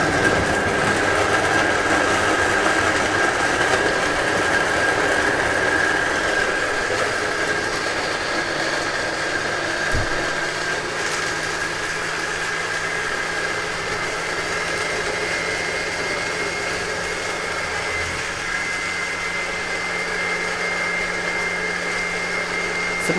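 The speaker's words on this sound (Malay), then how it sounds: "kita perlu blend hingga halus ya" A kitchen blender grinds chilli sambal ingredients for nasi lemak into a smooth paste, a steady, loud motor whir with a high whine that runs unbroken for over twenty seconds.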